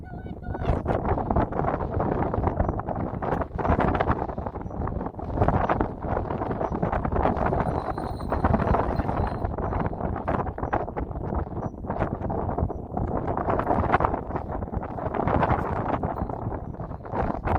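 Strong wind blowing on a windy day, buffeting the microphone in loud, gusty rushes that continue throughout.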